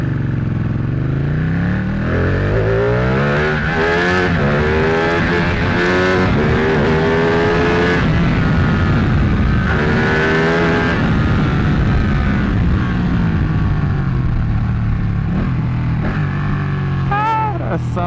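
A Ducati 1199 Panigale motorcycle accelerates hard in second gear, its engine note climbing steadily in loud, close revving sweeps that rise, dip and rise again over most of the run.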